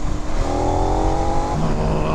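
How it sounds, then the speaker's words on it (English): A 2019 KTM 1290 Super Adventure S motorcycle engine pulls hard through the gears, a loud, close, steady roar with a rising tone midway through, heard alone without speech. "Oh, that's just so addictive, that engine note."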